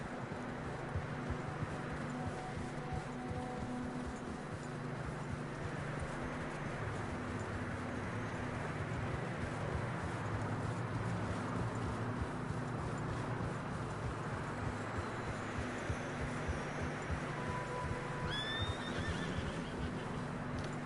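Horses neighing and whinnying in the snowy Red Dead Redemption 2 game world, a few calls heard over a constant dense bed of wind, hooves and ambience, moderately distant and fairly faint.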